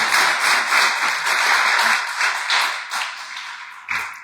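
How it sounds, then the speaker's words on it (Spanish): A church congregation claps together for several seconds, dense steady applause that thins out near the end with a few scattered claps. "Dele un aplauso al Señor."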